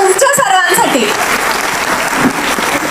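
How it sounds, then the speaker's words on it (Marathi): Loud, dense audience applause fills a women's empowerment event in Pune, a steady roar of many hands that is heavier at the start and stays full throughout. "मला वाटतं पहिल्यांदा सर्वांसाठी जोरदार टाळ्या झाल्या पाहिजे"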